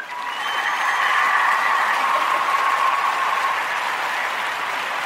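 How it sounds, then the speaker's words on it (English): Steady, sustained applause with a crowd-like wash, even in level throughout and with no talk over it, during a community discussion broadcast on Black history. "I'm going to give you a round of applause on that."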